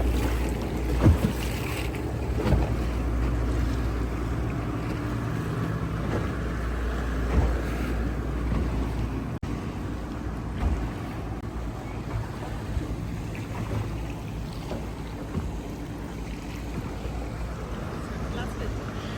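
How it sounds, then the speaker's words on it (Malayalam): Low rumbling motor of a passing boat in Venice, Italy, with its wake water sloshing and wind buffeting the microphone, steady and fairly loud throughout. "ഏതെങ്കിലും ഒരു ബോട്ട് പോയി കഴിയുമ്പോൾ പിന്നെ ഭയങ്കര ഓളമുണ്ടോ?"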